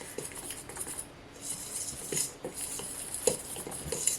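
A metal fork stirs flour, salt and sugar together in a bowl, giving quiet, irregular clinks and scrapes against the bowl at close range, with no talking.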